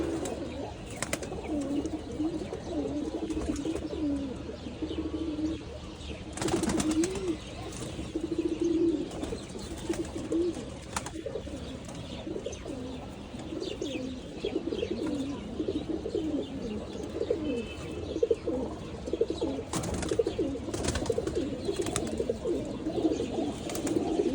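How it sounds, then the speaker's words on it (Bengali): Male flying pigeons coo together in a loft, a dense, continuous chorus of overlapping throaty coos with occasional sharp clicks or wing flutters. "আর এগুলো হচ্ছে আমাদের নর কবুতর, নর।"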